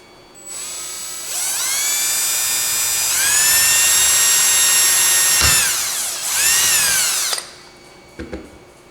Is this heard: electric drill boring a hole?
yes